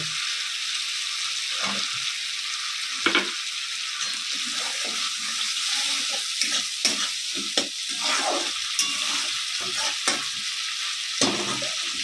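Green peas fry in spiced oil in a kadai, a loud bright hissing sizzle punctuated by repeated clattering spoon strokes as they are stirred, with no one talking.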